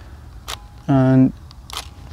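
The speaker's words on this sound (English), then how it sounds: "I just press the shutter and remove my hands." A Nikon D90 DSLR with an 18-105 mm lens fires its shutter once, a short loud mechanical buzz-whir up close, with faint soft sounds before and after.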